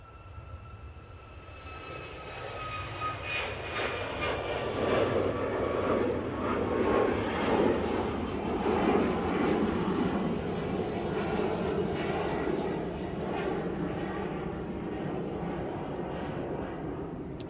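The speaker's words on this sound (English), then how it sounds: "Ryanair 737 MAX 8. Now on the roll." A Ryanair Boeing 737 MAX 8 rolls for takeoff at Manchester Airport, its jet roar building to a broad, loud rumble with a high whine that fades, then holding steady as it passes at a moderate distance.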